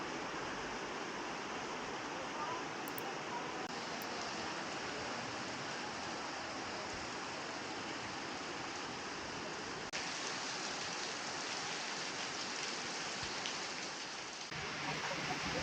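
Steady rain falls in Singapore, a dense, even hiss of drops on surfaces that runs unbroken throughout and shifts slightly in intensity near the end.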